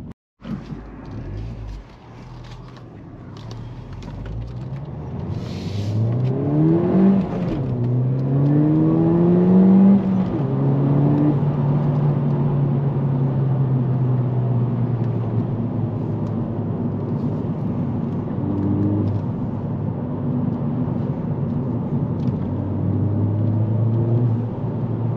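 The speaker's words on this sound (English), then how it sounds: "Can you hear that turbo noise," Ford Fiesta ST200 engine pulling hard on a drive, a loud continuous drone whose pitch sweeps up repeatedly as it revs through the gears, with turbo whir on top and no talking.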